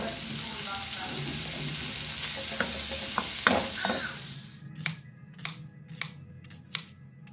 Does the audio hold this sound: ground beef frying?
yes